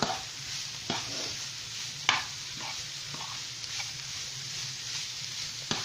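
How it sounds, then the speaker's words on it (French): A spoon stirs chicken bolognese with carrots and green and yellow peppers in a pan, giving soft scraping strokes and a few sharper knocks over a quiet, low sizzle. "il faut mélanger bien"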